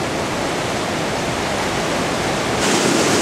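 Fast water rushes steadily at Lick Creek where it meets the Torrens River, a dense close roar with no pauses and no voices.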